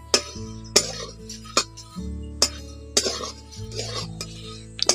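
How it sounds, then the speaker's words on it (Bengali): Flattened rice (chira) dry-frying in a pan is stirred repeatedly, producing a regular series of scraping clinks about every half-second over a low steady hum. "এই চিড়াগুলোকে এইভাবে নাড়াচাড়া করে ভেজে নিতে হবে, না হলে কিন্তু চিড়াগুলো পুড়ে যেতে পারে।"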